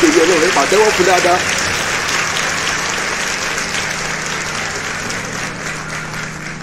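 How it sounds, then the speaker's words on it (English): A round of applause from an audience honoring a sewing designer, sustained clapping that follows a brief spoken voice at the start and tapers off gradually. "A round of applause, please."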